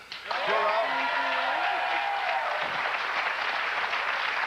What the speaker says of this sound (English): let's have a big hand for Medeja